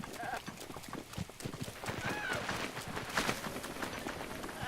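Hooves clip-clop at a gallop in The Legend of Zelda: Breath of the Wild, with a horse whinnying amid dense game noise as people talk over it.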